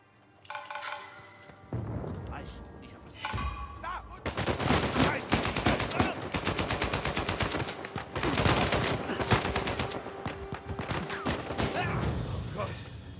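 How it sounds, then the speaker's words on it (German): Gunfire in the action video game Uncharted 4: A Thief's End, bursts of rapid automatic shots and single cracks in loud, dense volleys separated by brief pauses, with a few metallic clinks. "Na mal ernsthaft, wo kamen jetzt die Schüsse her?"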